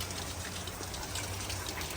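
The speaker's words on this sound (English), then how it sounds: "So still fighting with rain." Heavy rain pours down outdoors in stormy, flooding weather as a steady, dense hiss with no breaks, close and continuous, with a faint low rumble underneath.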